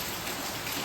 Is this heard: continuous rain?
yes